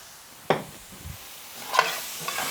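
Vegetables for Thanksgiving stuffing are stirred in a pan, a spoon scraping the bottom in a few separate strokes, with faint sizzling between them and no talk.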